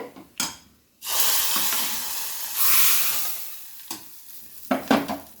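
Vadam sizzles and crackles as it fries in hot oil for arai keerai puli kadayal, a steady loud hiss lasting about three seconds between short clinks and stirring knocks of a pan.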